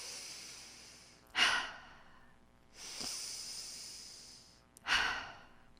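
Slow, deliberate breaths during a guided yoga exercise: three airy inhale and exhale bursts spaced a second or so apart, close and fairly soft, with near silence between them.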